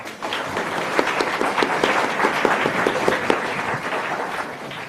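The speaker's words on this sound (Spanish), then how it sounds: "Lo recibimos con nuestros aplausos." An audience at a Peruvian university talk on caricature and power breaks into steady applause to welcome a speaker, a dense, sustained patter of many hands clapping at moderate volume without pause.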